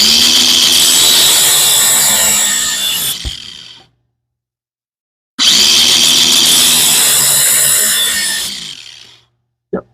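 A tool rasps across a driveshaft under a big-block Foxbody car, scoring a cut in two long, loud, steady grinding strokes separated by a pause, with a faint clink at the end.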